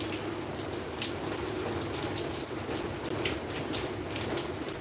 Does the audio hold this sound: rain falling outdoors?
yes